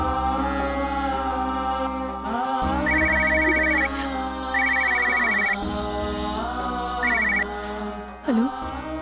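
A telephone rings in a Tamil TV drama scene, its electronic trilling ringtone repeating in short bursts over steady background music, with no talk.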